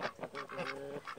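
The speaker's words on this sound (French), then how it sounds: "voilà, canards colvert et mâle colvert" Mallard ducks, females and a drake, give a short burst of several harsh nasal quacks in an aviary, close and fairly faint, with no talking.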